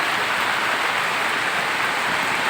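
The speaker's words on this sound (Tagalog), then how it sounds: "Medyo malakas ang ulan ngayon" Steady heavy rain pours down in a continuous dense hiss, loud and close, with no other sounds standing out.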